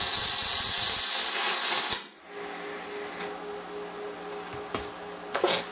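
An R-Tech Pro-MIG250-1 MIG welder crackles and hisses steadily for about two seconds, then cuts out, leaving a low hum and a few faint clicks.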